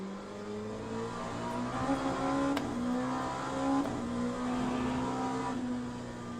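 An LMP2 prototype race car engine in the Le Mans Ultimate sim at Portimao drones steadily and loudly throughout, its pitch rising and falling as the car accelerates and lifts, with a brief sharp transient partway through.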